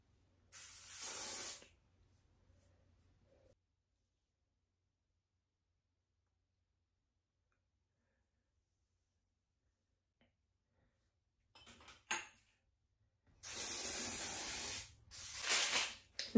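Ebin Wonder Lace melting spray misted onto wig lace near the ear in several short, close hissing bursts separated by long quiet gaps.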